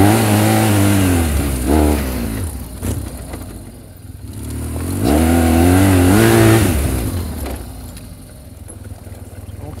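A BMW GS motorcycle climbing uphill, its engine revving up and easing off in two strong surges, close by, with faint rattles and no clear talk.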